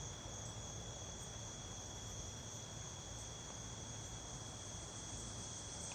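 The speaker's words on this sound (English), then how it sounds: "Can you hear the crickets and the cicadas? They weren't buzzing and chirping like this last time we were out here." Crickets and cicadas on an August day, a steady, dense, high-pitched chirping and buzzing drone that holds constant throughout, fairly faint, with no talk.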